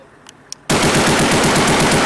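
Machine gun fired during military training: after a near-silent moment with a couple of faint clicks, a sustained loud burst of rapid automatic fire rattles on steadily to the end, with no talking.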